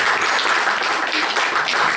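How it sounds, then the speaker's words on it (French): An audience at a French event applauds itself, a full, continuous roar of clapping that stays dense and even throughout. "je vous demande de vous applaudir à vous-même"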